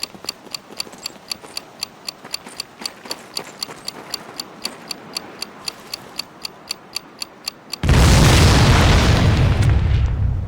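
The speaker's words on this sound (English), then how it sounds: "Today, we're gonna blast the living hell out of them." A steady, evenly spaced ticking runs for several seconds, then a sudden loud explosion erupts as old cars are blown up during military training in Medal of Honor Pacific Assault, followed by a long roaring rumble.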